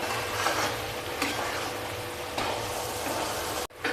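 Mawa stirred into browned roasted flour in a pan makes a close, steady scraping and soft sizzling texture, with periodic spatula strokes and a brief abrupt drop near the end, no voices.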